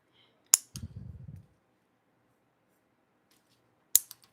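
Scissors snipping during a nail-art session for a camo fall nail design: two crisp, close cuts about three seconds apart, with a brief low rustle after the first and quiet between them.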